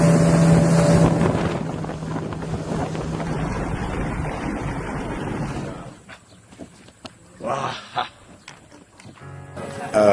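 A boat travels across open water, its motor a loud steady rumble joined by rushing wind and the slap of waves for the first six seconds, after which the noise drops away to quieter, broken water sounds.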